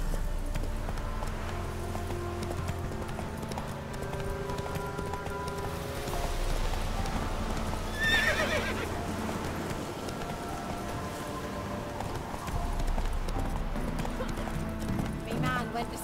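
Horse hooves clip-clop steadily at a gallop in The Witcher 3, with a whinny partway through and a constant music and ambient bed beneath.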